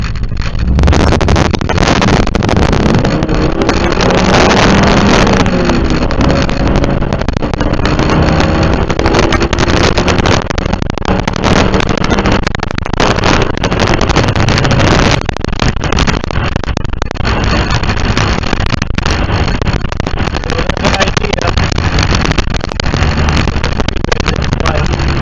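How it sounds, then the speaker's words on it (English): Car accelerating, recorded by a cheap $20 dash cam inside the vehicle: a loud, steady engine roar with heavy wind and road noise that swells and holds for the whole stretch. "Accelerate again. See what it sounds like accelerate."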